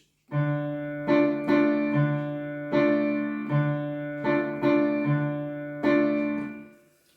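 Piano block chords with the root in the bass struck one after another, about eight attacks in a steady, unhurried rhythm, each ringing briefly before the next.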